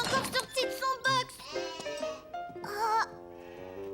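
A small lamb bleats several times in quick wavering cries, close and clear, in a children's cartoon farm scene.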